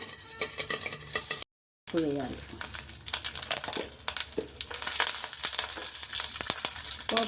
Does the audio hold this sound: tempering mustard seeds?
yes